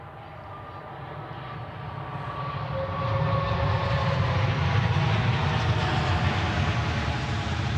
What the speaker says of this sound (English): Alright, third A330 landing today.